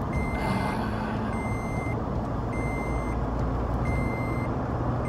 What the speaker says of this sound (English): Is that beep getting louder?